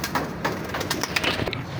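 Big breeder pigeons cooing close by, soft repeated throaty calls over a busy background of rustling and wingbeats.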